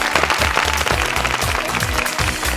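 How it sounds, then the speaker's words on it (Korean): An audience at a school dream-circle talent preliminary, doctor edition, gives a big round of applause: dense, steady clapping fills the moment while a thumping music backing track starts underneath. "여러분 큰 박수로 청해 듣겠습니다."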